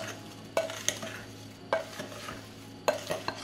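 Spoon scraping briskly around a bowl in three quick bursts of stirring, mixing a batter with a quarter teaspoon of vanilla added; close, clear and without talk.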